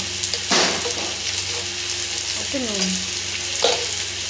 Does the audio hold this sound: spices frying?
yes